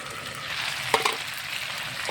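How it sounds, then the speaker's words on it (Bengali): Meat braises in a pan, giving a continuous close sizzle broken by a few sharp scrapes and clinks of stirring. "আমার মাংসটা সুন্দরভাবে কষানো হয়ে গেছে"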